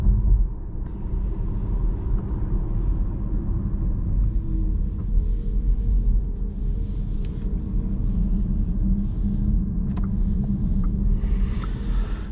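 A Volkswagen ID3 electric car drives along with a steady, loud low rumble of road and tyre noise inside the cabin, continuous throughout with no talk.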